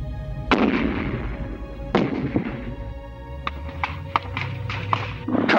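Gunfire rings out in a Vietnamese village during a Marine patrol, captured in an archival news recording: sharp shots crack at intervals, a couple of heavy reports early on, then a quicker scatter of lighter pops, loud and close.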